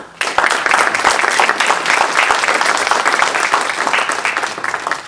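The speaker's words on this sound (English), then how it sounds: "let's give them, our honorees, a round of applause" A dense, sustained round of applause from an audience honoring students at an academic honors day ceremony, loud and steady throughout, with many hands clapping at once.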